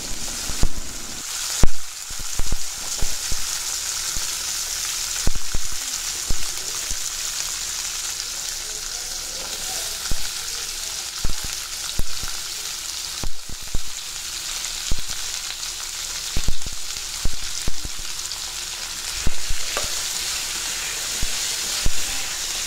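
Onion and garlic sautéing in hot oil in a pan for a spicy chutney, giving a steady broad sizzle with scattered clicks and stirring knocks throughout, close and moderately loud, with no talking.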